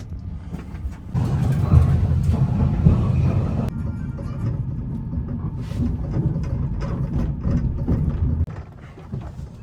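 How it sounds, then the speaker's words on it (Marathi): A cross-border passenger train from Kazakhstan to Uzbekistan rumbles along with a steady low roar and rattling, heard from inside a carriage, louder in the middle and easing toward the end. "आपली ट्रेन निघालेली आहे बरोबर 7 वाजता"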